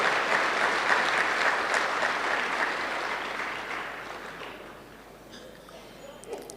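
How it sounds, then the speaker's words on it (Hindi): Loud applause from a large audience gathered in a hall for a spiritual assembly, sustained dense clapping that gradually thins and fades toward the end. "तो अपने लिए प्यार से जोरदार ताली बजाइए"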